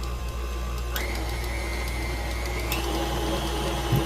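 An electric mixer creams sweet potato cake batter, giving a steady close whirring motor drone that runs without a break and shifts pitch slightly a couple of times.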